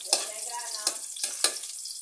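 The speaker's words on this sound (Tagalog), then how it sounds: "ginigisa rin yung pusit na rin" Squid and garlic sautéing in a hot pan, a steady close sizzle broken by four sharp bursts of stirring, no talking.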